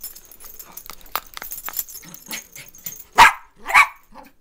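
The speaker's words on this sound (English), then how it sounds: "this is how crazy my dog gets when he gets when we get the leash." Dog barking excitedly in bursts, mostly moderate with two loud close barks near the end, mixed with yips and light jangling.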